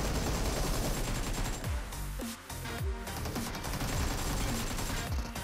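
Rapid bursts of gunfire from a PUBG Mobile match, with repeated shots and sharp cracks running through most of the stretch, loud and close, with no talking over them.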